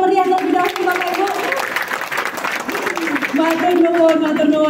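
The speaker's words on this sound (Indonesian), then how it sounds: "saya minta tepuk tangannya yang meriah lebih dahulu Bapak Ibu" A crowd claps steadily and loudly throughout while someone talks over the applause.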